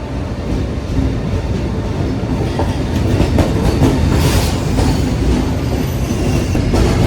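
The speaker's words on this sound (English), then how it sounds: "Here comes our train, the Italio." An Italo train rumbles steadily into a station, wheels clacking on the rails with a faint squeal as it rolls in, loud and close throughout.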